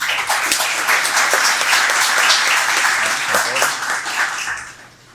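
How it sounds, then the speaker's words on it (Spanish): A large audience at a Catholic church conference on the Synod applauds loudly and continuously, the dense clapping holding steady before fading slightly at the end. "siéntanse bienvenidos con este aplauso"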